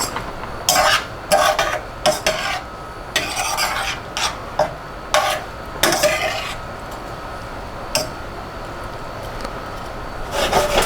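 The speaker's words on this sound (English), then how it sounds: "I'm just stirring it every so often" Pasta being stirred in a cooking pot for oyster penne: repeated scraping, clinking strokes of a utensil against the pot, irregular and close, with a steady background hiss and no talk.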